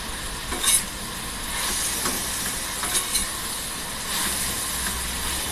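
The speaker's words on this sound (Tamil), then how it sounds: "இப்போ பச்சை ஸ்மெல் போகிற வரைக்கும் நல்லா வதக்கிக்கலாம்." Vegetables sauté in a pan over a medium flame for a bitter gourd fry: a steady close sizzle with scraping stirs throughout, no talk.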